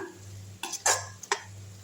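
A few scraping, clattering strokes of a spoon stirring a drumstick flower and drumstick stir-fry in a pan, close up, over a faint low hum.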